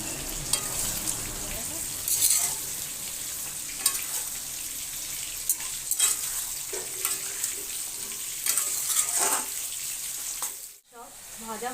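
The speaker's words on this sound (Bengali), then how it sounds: "এবারে আমি বেগুন দিয়ে একটু ভালোভাবে কষিয়ে নেব।" Brinjal sautéing with spices in a pan makes a steady frying sizzle with occasional stirring clatters, close up and continuous throughout.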